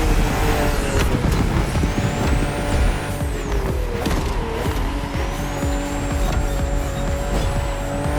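BMW M2 and M4 race cars in The Crew Motorfest roar continuously up close, with engines revving and shifting, tires squealing through sharp bends on a narrow road, and no talking.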